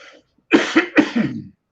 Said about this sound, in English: Excuse me, I'm coughing here.